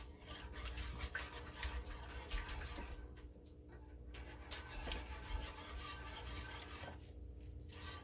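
Homemade Velveeta cheese sauce is stirred in a pot, with a continuous rasping scrape of the utensil against the pan and soft thick bubbling, steady and close.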